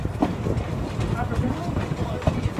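Train on the narrow-gauge Talyllyn railway rolling along its tracks, a steady low rumble with faint rhythmic knocks and clatter heard from on board, fairly even throughout.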